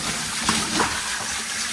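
Water gushing steadily through a pipe into a shower, a loud, continuous rushing flow heard close up with no talking.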